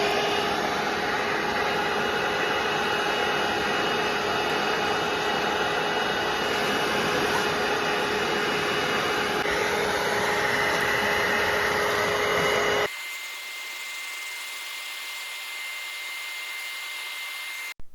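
A Bissell Little Green Machine carpet cleaner runs with a loud, steady motor whine and airy roar, then shifts to a thinner, quieter hum before cutting off.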